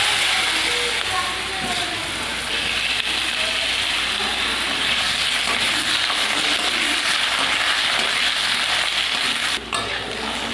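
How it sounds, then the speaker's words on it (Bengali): Potatoes frying in hot oil that has just held fried fish and cumin seeds, a steady dense sizzle running without pause close up, with a brief dip near the end. "এবার আলুগুলো ভেজে নেব।"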